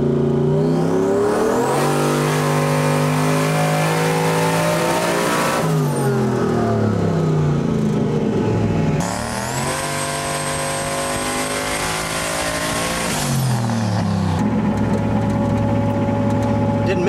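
Coyote V8-swapped Foxbody Mustang running on a dyno with boost near 15 psi, loud engine revs climbing in two long sweeping pulls with a brief drop between, then settling to a lower rumble.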